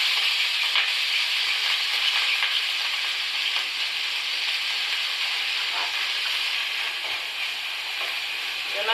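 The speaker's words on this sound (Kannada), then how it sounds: "ಎಣ್ಣೆ ಕಾದದೆ ಇವಾಗ ಕೋಸು ಹಾಕೊತಾ ಇದ್ದೀನಿ." Chopped cabbage sizzling in hot oil in a pan, a steady, close and even frying hiss that carries on with no break and no talk over it.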